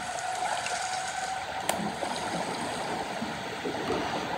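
Murky underwater water sound from diving in the video game Shadow of the Tomb Raider, a steady bubbling, rushing wash with a brief sharper splash partway through, no talk.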